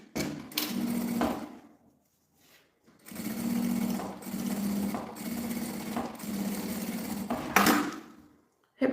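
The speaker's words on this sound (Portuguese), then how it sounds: "coloca o forro para trás e passa uma costurinha aqui rebatendo" A sewing machine stitches down the lining of a zippered pouch in two long runs, a steady close mechanical whir with a brief pause between bursts and no talking.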